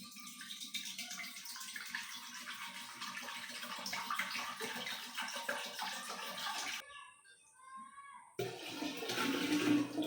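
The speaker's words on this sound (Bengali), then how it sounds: "তো ফ্রেন্ডস দেখো, জল ভরা আমার হয়ে গেছে।" Clean water pours steadily into a home fish tank, a continuous splashing rush that cuts out briefly near the end and then resumes, with no voices.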